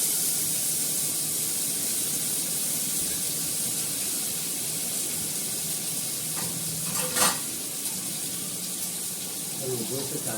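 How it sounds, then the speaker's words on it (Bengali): Potatoes marinated in oil frying in a pan at home, a steady broadband sizzle filling the whole clip with a brief louder burst of spatter midway, close and continuous with no talking. "আমি তেল দিয়ে ম্যারিনেট করেছি, শুধু আলুটা ভাজবো"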